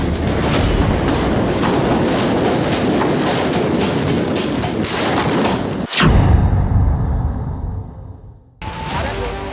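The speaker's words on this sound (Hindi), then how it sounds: "आग की लपटें और पटाखों के विस्फोट का शोर देखकर लग रहा है कि पास में ही धमाके हो रहे हैं।" Firecracker explosions sound from about 2 km away as a dense, rolling wall of booms and crackles, with one sharp heavy blast standing out before the roar briefly thins, then resumes.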